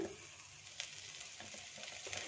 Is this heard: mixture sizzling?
yes